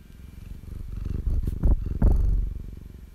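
Close, low rumbling cat purr that swells and fades in rhythmic cycles, growing louder toward the middle before easing off, with no talking.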